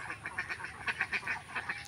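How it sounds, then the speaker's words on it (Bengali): Month-old ducks raised in a confined pen beside water quack again and again in a quick, rhythmic series of honking calls, fairly close and clear, with no talking. "এই হাঁস থাকার কারণে আমরা 3 দিন যাবত এখানে হাঁস রাখতেছি"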